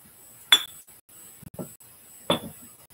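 Vintage glass canisters knocked together, giving two loud, bright clinks a couple of seconds apart with a softer tap between them, close by and with no talking.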